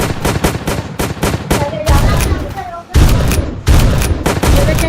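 Rapid bursts of gunfire from a shotgun in the Zombie Rush video game, loud dense volleys of repeated shots in several rapid strings with brief gaps between them.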